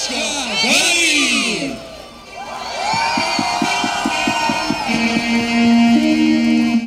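Townspeople cheer and whoop as the town's main Christmas tree lights up, with children's shouts rising above them. A burst of steady rhythmic clapping follows, and the loud, lively crowd carries on throughout.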